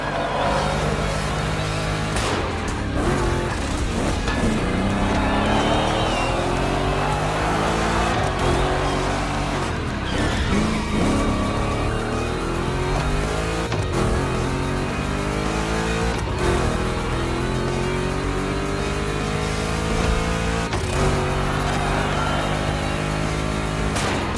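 Modified Chevrolet 3100 classic pickup running a gymkhana lap, its engine roaring steadily and loudly, revs rising and falling through repeated gear changes and acceleration bursts, with occasional tire noise.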